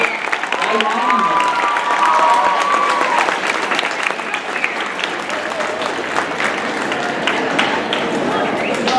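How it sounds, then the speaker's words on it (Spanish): A crowd applauds loudly and steadily for several seconds at an event for a girls' STEM mentoring network in Mexico, with scattered cheers and voices mixed into the dense clapping. "le vamos a dar un fuerte aplauso"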